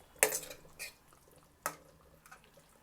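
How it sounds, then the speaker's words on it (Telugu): Deep-fried mini idlis are stirred into palak green masala in a pan. A spoon clinks sharply against the pan three or four times between soft scraping sounds, quiet and close, with no talking. "ఇప్పుడు ఇందులో మనం డీప్ ఫ్రై చేసి పెట్టుకున్న మినీ ఇడ్లీలన్నీ ఇందులో వేసి కలపాలి"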